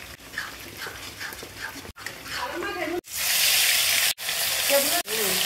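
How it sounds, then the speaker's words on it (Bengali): Fish fries in oil with a loud, crackling sizzle that surges in bursts, preceded by quieter kitchen sounds and a voice speaking over the start. "আবারও নতুন করে মাছ ভাজা হচ্ছে।"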